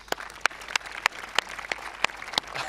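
An audience applauds after a performance at an Australia Day citizenship and flag raising ceremony. Sharp, separate claps come at a fairly even pace over a soft background.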